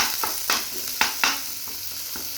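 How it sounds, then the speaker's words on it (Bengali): Onions fry in a hot pan for a Bengali mango, garlic and lentil mash, a steady sizzle punctuated by repeated brisk scrapes of a spatula stirring, close and fairly loud with no talk. "ওই জন্য আমি একটু পেঁয়াজটাকে ভেজে দিব"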